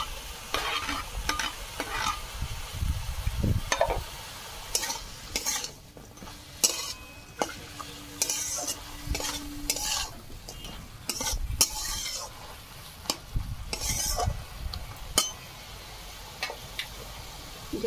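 Spatula stirring fried shrimp into cooking greens in a pan, with repeated scraping and clinking strokes over a soft sizzle, close and uneven in rhythm, with no voices.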